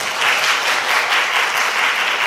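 A dense, steady burst of clapping from an audience at a youth FameLab award ceremony, loud and continuous throughout with no break.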